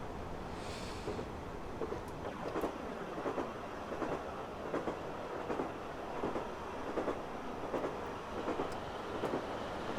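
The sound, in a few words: BR Class 153 diesel train running on rails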